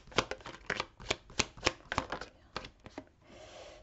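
Tarot cards being shuffled by hand for a reading, a close, quiet run of quick riffling flutters and taps over a few seconds, ending in a soft slide, with no talking.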